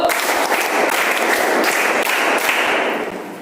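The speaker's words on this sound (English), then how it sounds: "Give a big round of applause for all of them." Children at a school assembly receive a dense, loud round of applause, many hands clapping steadily and close, fading slightly toward the end.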